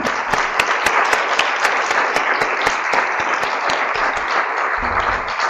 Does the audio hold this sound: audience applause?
yes